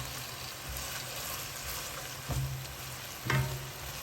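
A steady sizzle of Thai-style stir-fried noodles with sauce frying in a pan, with a couple of louder splashes and scrapes as ingredients are tossed and stirred, no speech.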